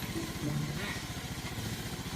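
A motorcycle engine runs steadily through a start-up test, a low rumbling idle with a regular pulsing beat, close by, with faint voices in the background.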